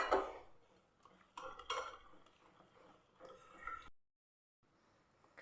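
Coconut and rice flour batter stirred in a bowl, with quiet scraping and clinking of a utensil in short bursts, then a brief silence before faint stirring resumes.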